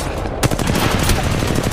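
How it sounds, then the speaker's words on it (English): Rapid automatic gunfire in Apex Legends Mobile, a loud continuous rattle of close shots through the whole moment. "Firing! They're shooting at me!"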